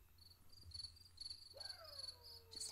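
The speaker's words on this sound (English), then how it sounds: "Just hanging out in the graveyard, listening to the crickets." Steady cricket chirping in a graveyard in the video game Chulip, short repeating pulses, fairly faint, with a low hum underneath and a soft tonal swoop partway through.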